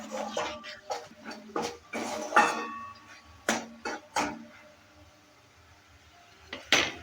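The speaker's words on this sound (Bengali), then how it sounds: "সব কিছু দেওয়ার পরও ভালো করে একটু মিক্স করে নিচ্ছি আবারও" A spoon clatters and scrapes in a metal pan, stirring spices for a cauliflower and soybean curry, with irregular close knocks and clinks separated by short quiet gaps.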